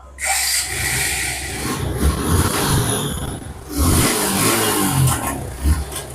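A used motorcycle at a Bangladeshi used-bike market starts and revs, its loud, rough engine roar rising and falling in several throttle blips close by for about six seconds.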